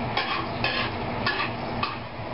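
Garlic sautéing in a pan for an ampalaya with bagoong dish, giving a soft, steady sizzle broken by a few brief scraping stirs of a utensil.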